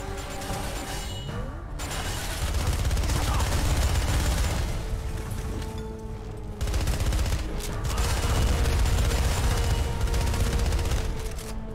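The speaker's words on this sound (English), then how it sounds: "Fuck this, I'm using grenades." Heavy crunching blasts and sustained explosive rumble from grenades in the spy driving game Spy Hunter: Nowhere to Run, loud and continuous with brief dips, no clear talk over it.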